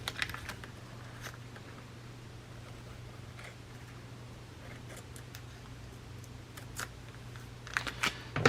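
Scissors cut a plastic sheet for a journal cover, making a series of soft close snips and crisp clicks over a low steady background hum, growing busier toward the end.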